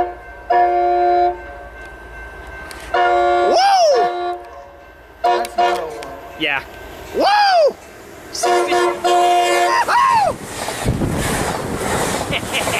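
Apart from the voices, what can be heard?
Amtrak Surfliner passenger train passing with horn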